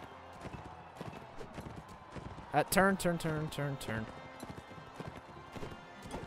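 Horse hooves clip-clop at a gallop in Mount and Blade Warband, with a whinny and a burst of rapid hoofbeats midway, heard under a player's voice.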